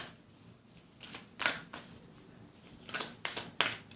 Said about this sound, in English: so let's pull another card with that.